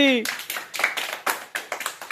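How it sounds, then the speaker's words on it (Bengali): Village children playing an outdoor game in rural Bengal clap loudly: a voice briefly at the start, then about eight sharp, close claps in a quick, uneven rhythm. "জোরে একটা হাততালি"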